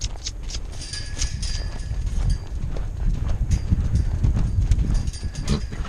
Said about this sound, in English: It's a nice little lope.